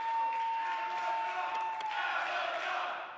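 A pro wrestling crowd at a Rocky Mountain Pro event roars and cheers loudly, a sustained wall of shouting and whooping that swells and then eases slightly.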